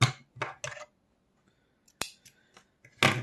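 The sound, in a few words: scissors cutting yarn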